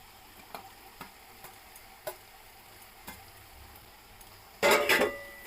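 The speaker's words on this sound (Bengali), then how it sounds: "এবার আমি দিয়ে দিব আগে থেকে ভেজে রাখা আলু আর ভেজে সয়া কার্পগুলো" Pre-fried potatoes and soya chunks are added to a pan of spiced pea curry masala. A few soft, evenly spaced clicks come first, then a sudden loud, brief burst of hissing sizzle near the end.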